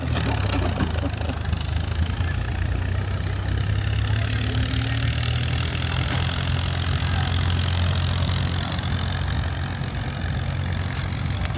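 A loud tractor engine rumbles steadily nearby on Kamala Beach, Phuket, idling at a constant low pitch without pause.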